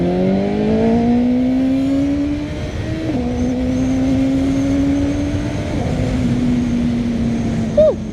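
CF Moto 750SR-S motorcycle with a quad-mount exhaust accelerating hard in first gear in an open area, a loud, steady engine tone climbing in pitch, dipping briefly at shifts, with a rough, slightly choked exhaust note close by.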